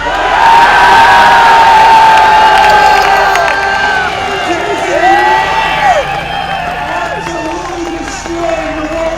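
Loud crowd at a BMX Pro Cup contest cheering and whooping for a rider's no-hander, a dense roar of shouts and whistles that swells at the start and stays strong before easing slightly, with voices calling out throughout.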